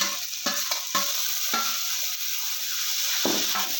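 Tomatoes with mint and coriander leaves sauté in a pan for a hotel-style parotta salna, giving a steady close sizzle with occasional stirring scrapes and no talk.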